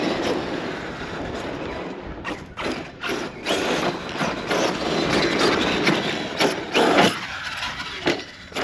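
An Arrma Outcast 8S EXB RC truck slams down nose-first after a jump outdoors, a loud thud amid rattling mechanism noise and steady wind buffeting on the microphone, with no talking.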